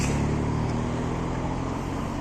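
Street traffic in Barcelona during a citywide blackout, a steady broadband rumble of car engines and road noise near Esplugues, continuous and fairly loud with no voices.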